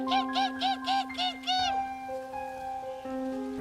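A hunter imitates a strange bird call with his voice, giving five or six short rising warbled hoots in a quick series, then a longer sustained tone under a steady background hum.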